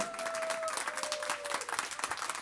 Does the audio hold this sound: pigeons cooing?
no